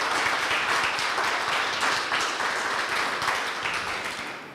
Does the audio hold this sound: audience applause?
yes